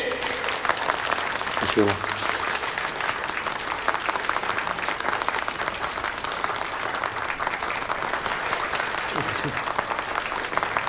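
Sustained loud applause from a crowd at a corporate inauguration ceremony and press conference, continuous clapping throughout with brief spoken words over it.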